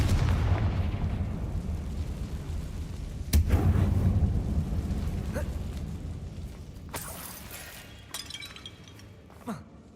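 Explosive blasts from a Confringo spell in a Harry Potter video game, a heavy boom followed by several sharp cracking bursts with shattering debris, fading into quieter echoes.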